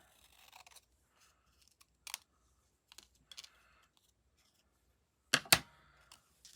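Paper trimmer cutting cardstock for a handmade card, a few faint clicks and slides spread out, ending in a sharper pair of cutting snaps, otherwise quiet.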